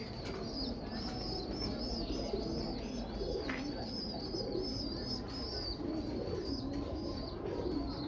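Old-breed pigeons, including English Tiplers, coo softly and continuously in a low, rolling murmur, with occasional wing flutters and faint chirps over steady background noise.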